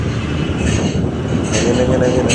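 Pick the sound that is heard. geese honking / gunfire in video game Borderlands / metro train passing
metro train passing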